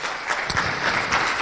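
Conference audience in a hall applauding, a short burst of steady, moderately loud clapping from many hands.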